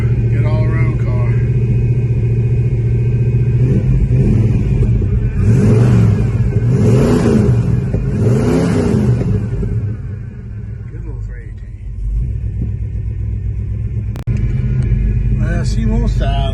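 An old car's engine runs after cranking, a loud low rumble with rising revs and uneven surges before settling toward idle, while someone talks over it nearby.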